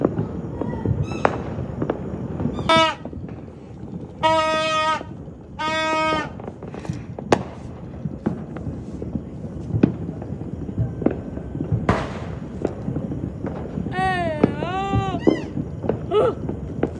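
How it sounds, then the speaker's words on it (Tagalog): Judas belt firecrackers crackle and pop continuously in a dense, rapid string on New Year's Eve, with sharper individual bangs standing out, heard from a moderate distance amid outdoor noise and occasional animal-like bleating calls. "Mga Judas Belt yan."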